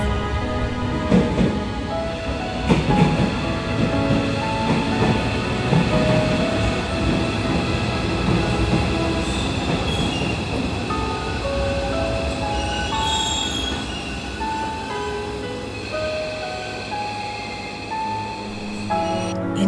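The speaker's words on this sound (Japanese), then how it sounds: "湯西川温泉駅を発車します。" A Yagan Railway limited express Revaty train pulls out of Yunishigawa Onsen station, wheels squealing and clattering loudly at first, then the rumble and sustained tonal whine of the moving train continue, gradually easing, with no talk.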